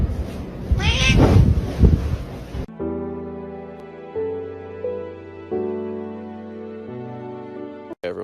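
A cat meows in a brief, drawn-out, close call, then steady music plays with no further calls.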